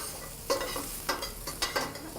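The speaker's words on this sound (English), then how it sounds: "We got a good sizzle on that eggplant." Eggplant frying in a pan as it is stirred, giving a close sizzle broken by several scraping stir strokes, with no talking.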